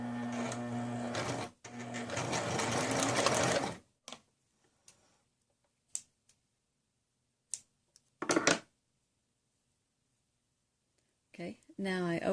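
A sewing machine stitches ribbing onto a t-shirt neckband in a steady burst with a brief stop, followed by quiet handling sounds and small clicks, with a little talk near the end.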